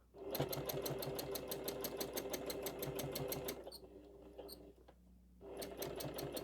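Sewing machine running in long steady bursts while free-motion quilting stitches along the bottom of a tree design, with a brief pause partway through before the fast, even stitching resumes; close and alone, no talk.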